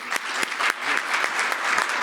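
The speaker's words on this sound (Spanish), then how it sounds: "un aplauso para ustedes" An audience applauds at a panel on rising cyberattacks and national cybersecurity, producing an even burst of clapping that holds steady throughout, fairly close and clear.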